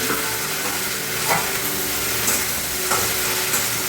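Okra goes into a pan of hot oil with cumin and browned onions, and it frying fills the sound with a loud, continuous close sizzle and a few faint stirring scrapes.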